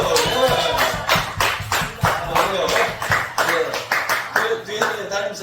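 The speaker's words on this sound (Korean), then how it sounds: "방금 듀엣이 박수" Audience clapping at a church youth-group worship service, a steady run of claps under loud talking and background sound throughout.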